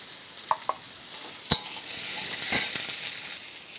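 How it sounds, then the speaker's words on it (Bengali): Potatoes fry in hot oil for a rohu fish curry, a steady sizzle broken by a few sharp clicks and scrapes of stirring in the pan. "আলুগুলো ভেজে নিচ্ছি"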